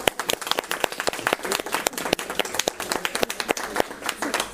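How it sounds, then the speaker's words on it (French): A crowd claps together in a dense, steady burst of applause, sharp hand claps layered throughout, fairly close and lively. "tout le monde applaudit en même temps"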